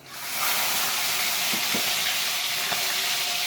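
Cluster beans drop into hot oil with mustard seeds and cumin, and a sizzle swells up within half a second, then holds as a loud, even hiss with a few faint pops.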